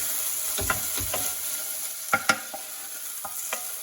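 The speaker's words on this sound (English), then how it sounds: "just give it a stir" A spoon stirring tomato puree in a cooking pan over very low heat, a soft sizzle beneath several distinct scraping and tapping strokes at an uneven rhythm, close by.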